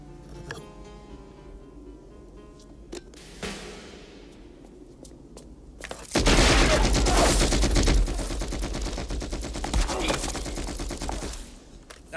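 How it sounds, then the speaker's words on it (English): A single gunshot rings out in a dramatic film confrontation, followed by a loud, sustained burst of dense noise with rumbling tones that lingers for several seconds before fading. "That was a gun."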